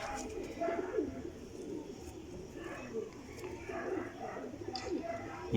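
Soft, repeated throaty cooing of pigeons at close range, several calls overlapping, with someone talking over them.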